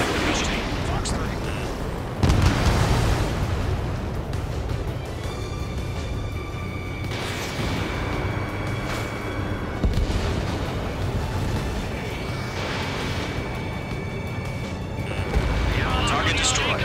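Missile strikes blow up a target in a jet combat video game, producing repeated heavy explosions and rumbling blasts over a dense roar of battle noise, while radio-style voices talk over the action.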